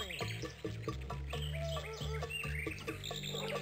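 An umbrella bird calls in a Blue's Clues alphabet safari video game, chirpy tweeting notes over a busy backdrop of game music and effects.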